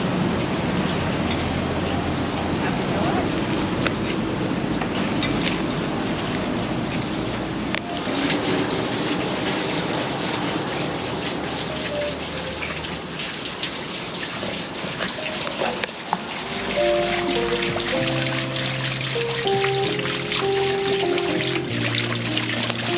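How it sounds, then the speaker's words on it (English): A working water wheel turns outside a shop in Montville, giving a steady, close wash of splashing, trickling water that runs throughout, with faint tonal clatter creeping in near the end. "There's a water wheel. This looks like it works."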